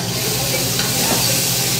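Garlic fries in a pan for a mustard sauce in a restaurant kitchen, a loud, dense, steady sizzle heard close with no voices.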